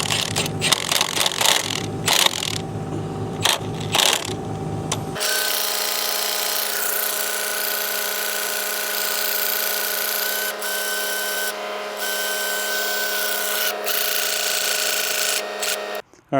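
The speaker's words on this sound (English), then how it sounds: "Tighten this grease fitting up." A power tool works on a grease fitting on a Caterpillar 315L excavator, with rough intermittent grinding bursts at first, then a steady loud whine with a strong hum that runs until it stops abruptly.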